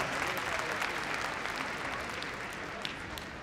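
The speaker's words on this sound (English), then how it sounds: "Give her a final round of applause." Audience applause at the Crufts heelwork to music freestyle international competition, a dense steady clapping from a large crowd that holds evenly throughout with no break.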